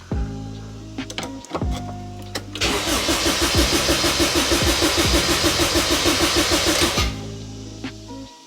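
A Honda K20 engine swapped into an EG Civic cranks with a fast, rhythmic whirring starter chug for about four seconds, loud and close, then cuts off, with quieter mechanical clicks and hum before and after.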